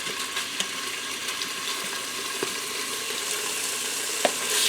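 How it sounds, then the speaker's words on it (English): Beef tips sizzle steadily as they brown in a hot pressure cooker pot, a dense crackling hiss with occasional louder pops and small clinks. "We're going to get them in there and fry them, brown them up."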